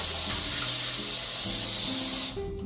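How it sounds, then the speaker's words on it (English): French press being rinsed under a kitchen tap: steady running water splashes into the glass, the pitch shifting as it fills, before the flow cuts off near the end. "So let's clean the French press together now and see how it becomes very clean. I give it a rinse first,"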